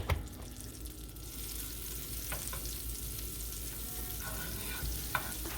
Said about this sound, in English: So I'm just gonna add in just about a tablespoon of butter. Let that go.